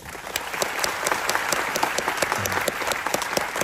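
A seated audience at an event claps loudly and steadily, a dense sustained burst of applause filling the room without pause and with no talking over it.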